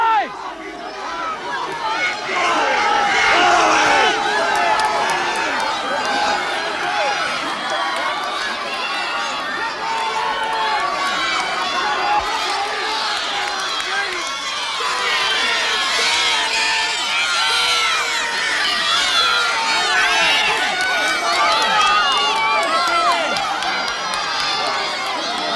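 A large outdoor crowd at the Gumstool Hill race in Tetbury cheers and shouts continuously, a loud, dense roar of many voices with whoops rising and falling throughout.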